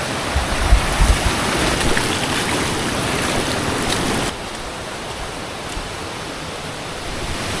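A small stream on a trail rushes in a dense, steady hiss of flowing water, loud and close, easing slightly partway through as if the listener moves away, with no voices.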